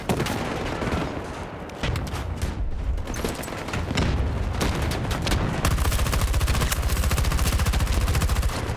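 Dense video-game gunfire comes in loud overlapping bursts that build into sustained rapid automatic fire with booming impacts, close and heavy throughout.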